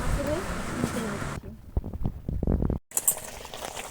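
Bengali hilsa curry in mustard sauce, finished with raw mustard oil, simmering in a pan with a burst of close, thick bubbling pops; a voice is heard just before.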